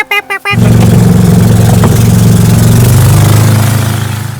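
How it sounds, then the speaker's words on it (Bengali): Trawler boat engine on a river trip in Alikadam, Bandarban, chugging loud and steady at close range after a brief beeping, a dense low rumble that fades slightly toward the end. "আসলে এই জায়গায় আমাদের ট্রলারটা একটু আটকে গিয়েছিল।"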